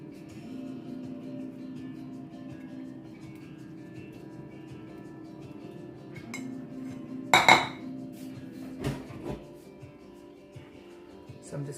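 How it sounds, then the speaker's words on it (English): A metal baking tray set onto an oven rack while making chicken puff pastry, a quiet kitchen hum broken by one sharp clattering clank and a couple of lighter knocks afterward. "So I'm just gonna rack up the tray."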